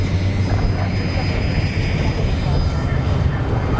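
A steady, loud jet engine roar holds throughout, with a thin high whine riding on top.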